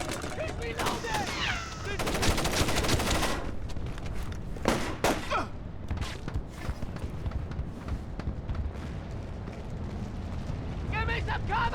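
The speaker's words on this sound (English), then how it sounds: "He's taking shots!" Gunfire in the stealth video game Splinter Cell Chaos Theory, sharp shots and short bursts cracking out amid shouting voices and tense background sound, some reports loud and close.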